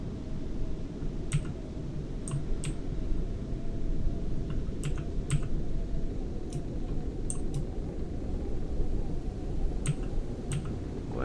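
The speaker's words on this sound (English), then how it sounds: "Hope that keyboard's not too loud." Rapid keyboard typing during a horror game session, irregular bursts of sharp key clicks over a steady low background hum, fairly close and no speech.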